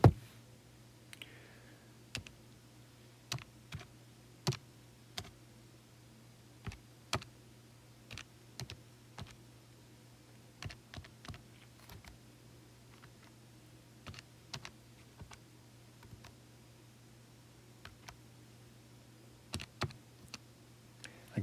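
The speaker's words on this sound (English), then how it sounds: "type that in my calculator" Calculator buttons being pressed, a sparse series of faint, crisp individual clicks at irregular intervals over a low steady hum, no talking.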